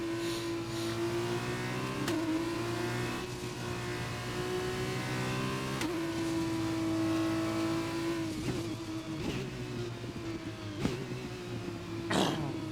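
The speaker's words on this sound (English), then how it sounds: "Oh, there's still cars coming around the track." F1 race cars from F1 2021 drone around the Bahrain track, a sustained engine whine with cars sweeping past at intervals and shifting pitch, moderately loud with no talking.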